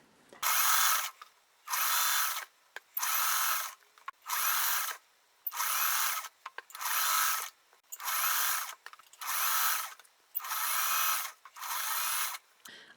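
A sewing machine stitching quilt squares in about ten evenly spaced bursts, each a rapid whirring run lasting around a second with short silent pauses between, close and clear.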